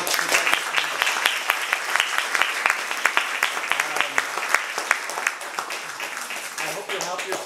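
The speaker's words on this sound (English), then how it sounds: "let's give a round of applause." Sustained applause from an audience at a photographic exhibit, many hands clapping steadily for several seconds, with voices talking underneath.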